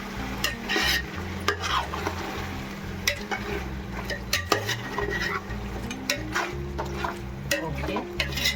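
Pasav biryani being stirred in a pot, with a run of sharp metal spoon clacks and scrapes at an irregular rhythm over a low cooking hiss, close and fairly loud.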